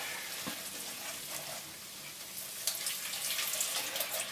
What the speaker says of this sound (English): And now we're going to slowly add the chicken stock.